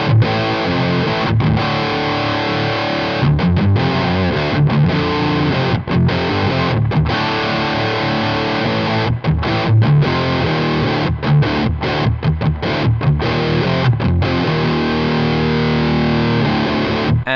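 A loud, continuous distorted electric guitar plays through an amp captured with a ribbon mic and a Shure SM57, dense chugging riffs with brief gaps between phrases and no talking.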